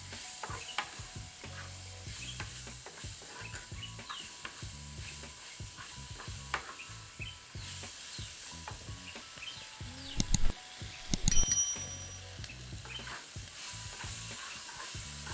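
Fried rice with crab, mushroom and peas being stirred in a hot pan, with a steady crackling sizzle, repeated scraping strokes and a louder clatter of stirring near the end, no talking.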